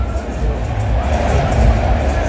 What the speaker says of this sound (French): Les Marocains qui sont acclamés, applaudis, ovationnés par la population congolaise ici au stade de Martyrs de la Pentecôte